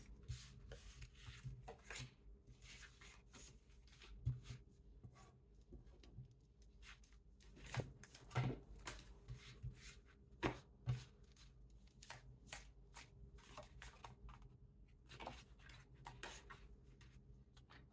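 Tarot cards are shuffled in soft, papery riffling patter with occasional sharper flicks and taps, close and quiet over about eighteen seconds, with no voice over them.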